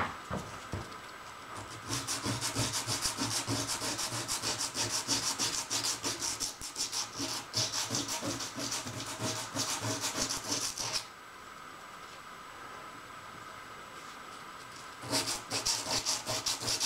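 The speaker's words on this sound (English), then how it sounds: "get some fine sandpaper and sand it down a bit." Fine sandpaper is rubbed back and forth on a part of a homemade almond centrifuge, giving fast, steady, close scratching strokes that run for about nine seconds, stop for a few seconds, then start again.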